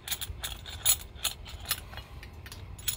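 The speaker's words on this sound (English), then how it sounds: "So go ahead and get the C-clamp on here. We're just gonna clamp it down" A 5-inch C-clamp tightening on a 5th-generation Ford Bronco brake caliper makes a quick series of small metallic clicks and ratcheting ticks, close and fairly quiet, with no talk.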